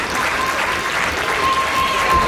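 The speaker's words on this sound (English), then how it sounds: "this crowd is electric" A wrestling crowd cheers and applauds at an RPW Blast Off event, a loud, dense, steady roar of clapping and voices filling the arena with no letup.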